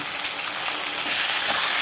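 Chopped tomatoes sizzling with onions in a pan while being sautéed for a Tamil drumstick poriyal, a steady close hiss that swells slightly near the end.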